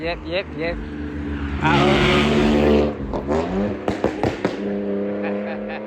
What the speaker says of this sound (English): I heard a loud car coming.